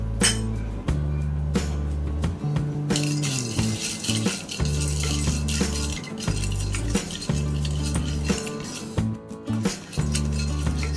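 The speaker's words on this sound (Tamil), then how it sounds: "1 கப் வறுத்த வேர்க்கடலையை கடாயில் சேர்த்து ட்ரை ஃப்ரை பண்ணிக்கணும்" Roasted peanuts are dry-roasted in a kadai with close, continuous metallic scraping, clinking and rattling as a spoon stirs them against the pan over a low steady hum, with no talking.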